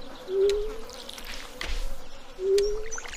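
A buzzing fly in the Stardew Valley video game drones in two short, steady passes, each rising and fading over a soft background of light game ambience and faint clicks.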